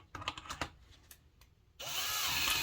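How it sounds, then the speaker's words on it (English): A few light taps and knocks, then a power drill spinning a Speedmaster billet distributor whirs up abruptly and keeps spinning loudly and steadily. "let's chuck it up in the drill here"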